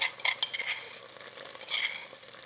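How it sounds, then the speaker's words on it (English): Tomato paste sizzles and fries in a hot pan over medium-high heat while a utensil stirs it, soft scraping and bubbling close up with no talking. "3 tablespoons of tomato paste on a medium-high heat. And then as that's frying out"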